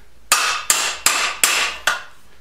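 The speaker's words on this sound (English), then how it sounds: "Now I don't normally beat on this vise, but these are just aluminum." A hammer strikes aluminum cans set on a vise five times in a steady rhythm, each blow a loud, sharp metallic clang close by that rings briefly before the next.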